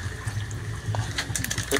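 Water runs steadily from a tap while a container is filled during a snakehead fishing trip, a continuous close gushing flow with no talk.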